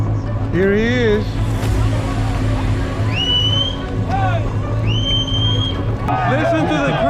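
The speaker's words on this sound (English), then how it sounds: "Listen to the crowd." Crowd noise at a jet ski drag race, a busy outdoor babble of many voices with a steady low engine hum underneath and occasional shouts and whistles rising above.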